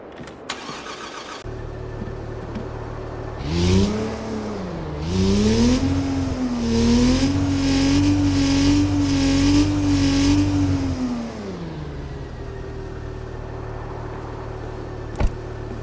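An Audi S5 in the CPM2 video game starts and revs, the engine note rising and falling, then holding a steady high tone before dropping back to idle.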